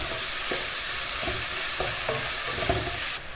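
Crushed small shallots sautéing in a hot pan for a Kerala-style chicken thoran, a loud continuous sizzle broken by repeated scraping strokes of a spoon stirring at a regular rhythm.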